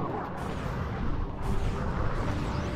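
Mini rocket tube firing in Ratchet and Clank 2: Going Commando, a dense run of booming launches and blasts lasting a few seconds, loud and continuous with no pauses.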